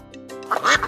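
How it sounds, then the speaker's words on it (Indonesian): A cartoon duck in a children's animation gives a brief, close quack or two over a soft musical background, lasting under a second. "Ya betul, itu adalah suara bebek."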